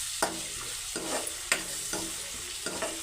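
Dried small fish frying lightly in oil, a continuous close sizzle punctuated by about five spaced stirring taps of a utensil against the pan.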